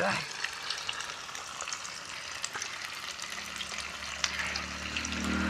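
Manchurian balls deep-frying in hot oil make a steady, dense sizzle that runs unbroken and close, with a faint low hum building toward the end.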